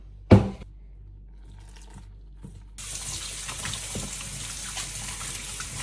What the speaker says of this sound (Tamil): கொஞ்சம் கொஞ்சமாக தண்ணியை விட்டு குழைப்போம்.